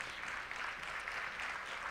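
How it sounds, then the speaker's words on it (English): An audience gives steady, dense applause for the founders of Chicago's Black theatre companies, a continuous wash of clapping throughout. "give a warm round of applause to all of these wonderful people"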